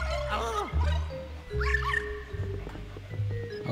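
Cartoon dog barking and yipping in Luigi's Mansion 3, a few short barks and whimpers over game music and effects, with a player talking over it.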